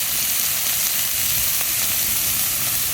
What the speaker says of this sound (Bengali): লঙ্কা গুঁড়ো ভালো করে আগে ভেজে নিতে হবে।